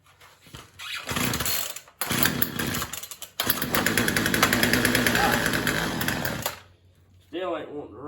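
Flooded chainsaw engine being pulled and started, sputtering in bursts with brief cutouts before a sustained loud, rough revving run that dies away, followed by someone talking.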